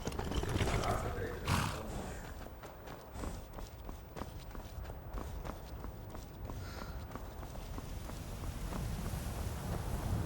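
Horse hooves clip-clopping in a steady rhythmic gait while riding in the Skyrim VR video game, with wind-like rushes and a loud burst near the start; hoof strikes moderate and close.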